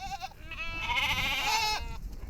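Goats bleat loudly and close around a herders' car on a sweltering day, one long wavering cry over a softer bleat and the murmur of the herd.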